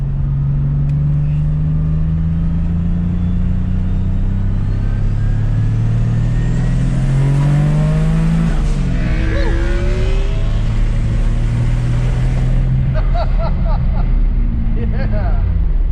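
A 1992 Dodge Stealth with a single turbo accelerates at part throttle, its engine note climbing steadily in pitch, heard loud from inside the car with rumble and turbo whoosh as people talk in the cabin.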